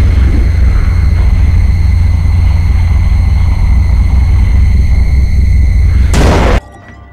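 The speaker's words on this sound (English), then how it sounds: "A small vent, a few sticks of dynamite, and a minor explosion." Sticks of dynamite blow a small vent in Call of Cthulhu: Dark Corners of the Earth. A loud, steady, distorted roar and rumble fills the scene, ending in a sharp burst before it cuts off.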